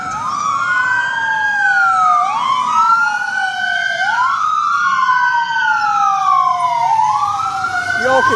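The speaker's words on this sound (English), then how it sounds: "there is a siren coming" Emergency vehicle siren wailing loudly and continuously, its rising and falling sweeps repeating every couple of seconds as it approaches along a road, with no talk over it.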